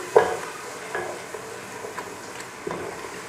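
Ginger garlic paste frying in a pan, a soft steady sizzle broken by occasional scraping stirs and light utensil taps, close and fairly quiet with no talking.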